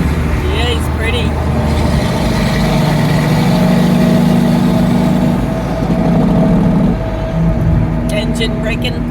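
A nearby truck makes a loud, deep engine-braking rumble on the road, a heavy sustained roar that wavers in pitch, while people talk over it.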